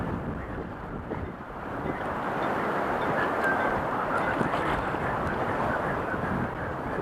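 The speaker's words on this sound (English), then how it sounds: "Windy." Wind gusting steadily across a fishing dock on Lake Washington, a dense rushing roar buffeting the microphone, close and continuous, with faint lapping water beneath and no talk.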